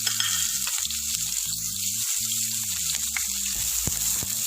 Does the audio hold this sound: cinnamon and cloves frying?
yes